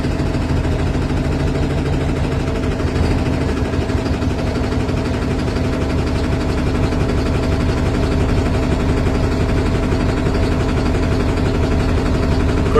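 A 2009 Kenworth T800 diesel truck engine idles steadily and loudly, with a continuous rhythmic knocking running through the rumble.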